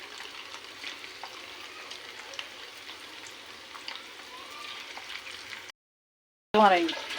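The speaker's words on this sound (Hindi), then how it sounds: "इस तरह से आपने क्रिस्पी सारा चिकन फ्राई करना है" Chicken pieces frying crisp in hot oil give a steady, close crackling sizzle with scattered pops; the sound cuts out briefly near the end, then returns louder.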